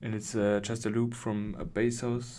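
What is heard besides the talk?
No everyday noises stand out.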